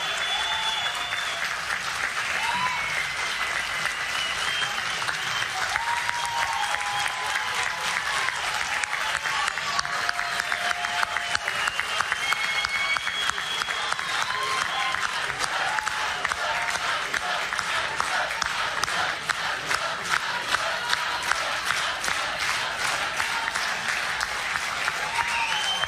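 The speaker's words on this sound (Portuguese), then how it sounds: "Uma salva de palmas para esse querido" A crowd gives sustained applause at a political event honouring someone, a dense, even clapping that continues for the full stretch, with a few faint voices rising above it.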